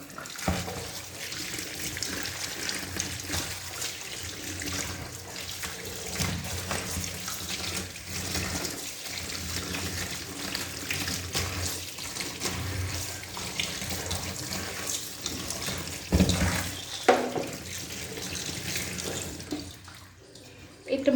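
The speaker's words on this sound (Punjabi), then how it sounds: "ਆਪਾਂ ਆਪਣੇ ਟਮਾਟਰਾਂ ਨੂੰ ਆ ਜਿਹੜਾ ਚੰਗੀ ਤਰ੍ਹਾਂ ਧੋ ਲੈਣਾ" Tomatoes are washed under a running kitchen tap, with water gushing steadily and splashing for about twenty seconds, broken by brief clunks and shifts as the fruit is handled.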